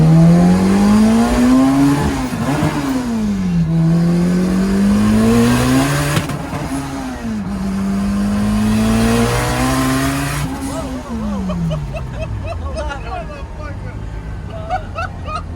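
Turbocharged all-wheel-drive Honda Civic on a dyno, running around 27 psi of boost, revs hard in loud rising and falling sweeps through several gear pulls, the engine note climbing steadily before dropping off near the end, with talk mixed in over it.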